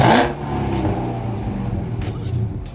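A car with a catalytic converter delete and stock mufflers revs loudly up close, a deep rumbling exhaust note that settles into a throaty idle with faint voices nearby.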